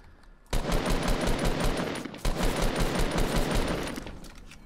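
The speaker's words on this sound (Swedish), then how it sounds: "Men jag hör massa mer skott." Rapid automatic gunfire from the Fortnite video game, dense bursts of shots rattling almost continuously at close range, with a brief pause in the middle before the firing resumes, then gradually easing off.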